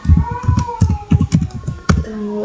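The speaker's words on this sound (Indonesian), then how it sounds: "Nah, kita bisa mengetik," Fast typing on a computer keyboard while entering Linux commands, a quick run of close, sharp key clicks in irregular bursts with a few heavier strokes and no speech.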